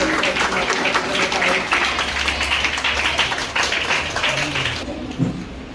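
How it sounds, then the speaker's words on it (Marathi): A crowd of pupils and guests claps at a Zilla Parishad school's entrance-day welcome ceremony in Zirad, Alibag, a dense, close patter of applause that continues for several seconds before fading out near the end. "सर्वांनी टाळ्या वाजवायच्या आहेत"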